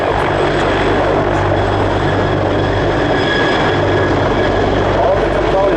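A Sikorsky CH-53K King Stallion heavy-lift helicopter flying a demonstration at the ILA air show, giving a loud, steady rotor and engine roar that fills the whole stretch without a break.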